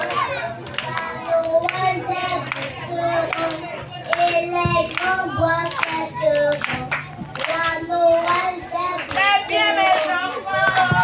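Children and adults clap at a nursery school party, a scattered burst of claps mixed with lively children's voices and chatter throughout.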